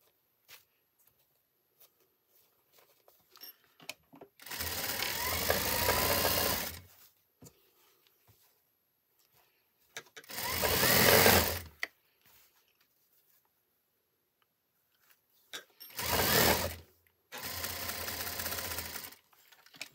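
A sewing machine stitches cord piping onto fabric in four separate runs of steady, close whirring, with short quiet gaps between them.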